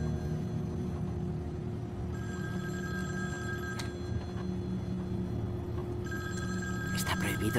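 A telephone rings inside a vehicle in a Spanish comedy film, with two long bursts of an electronic ringing tone over a steady engine rumble.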